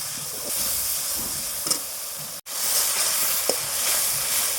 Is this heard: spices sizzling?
yes